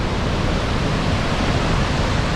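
Victoria Falls' main waterfall roars as a dense, unbroken wash of noise, loud and steady throughout with no voices over it.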